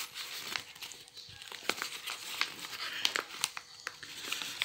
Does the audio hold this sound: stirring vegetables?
no